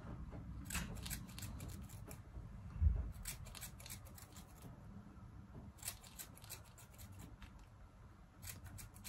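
Scissors snip and thin the hair on a medium-density hair system in several quiet bursts of close, crisp cuts over a soft steady background, with no talking.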